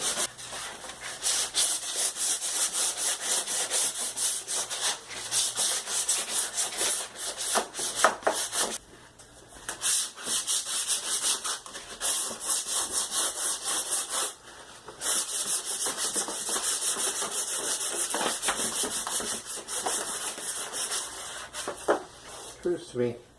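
Sandpaper rubbing across a painted surface, steady rasping strokes repeating for the whole span with brief pauses, close and fairly loud, with some speech mixed in.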